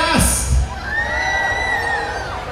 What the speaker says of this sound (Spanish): el grito de las chicas guapas